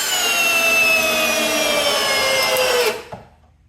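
Ryobi brushless drill driving a lag bolt, a steady high-pitched motor whine with rising strain for about three seconds, then stopping abruptly.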